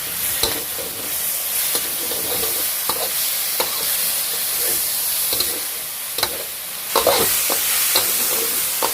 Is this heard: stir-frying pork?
yes